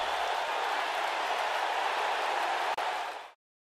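A Las Vegas arena crowd in the WWE 2K19 wrestling game, during Monday Night RAW, roars in a steady, dense wash of cheering that cuts off abruptly.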